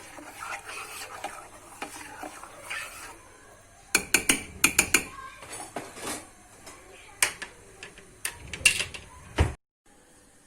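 A spoon scrapes and clinks against a cooking pot in quick irregular strokes while stirring a spicy hazelnut paste, loud and close, with a faint sizzle underneath.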